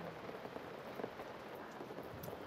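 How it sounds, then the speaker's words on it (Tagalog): Heavy rain pours down steadily, a dense hiss of drops drumming on a surface with scattered nearer splashes, continuous and moderately quiet with no voices. "sa kalagitnaan ng malakas na ulan."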